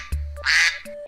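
Cartoon ducks quack in a short burst of nasal calls, loud and close, with no talking over them.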